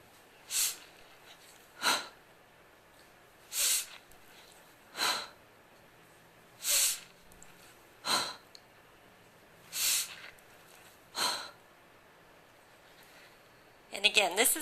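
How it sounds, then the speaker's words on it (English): Forceful breaths pushed out during heavy kettlebell snatches, eight sharp hissing exhalations spaced roughly every one and a half seconds, close and fairly loud, with a burst of noise at the end. "instead of inhaling on the way up, you're going to exhale on the way up."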